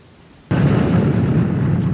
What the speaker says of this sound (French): Et voilà, elle explose encore.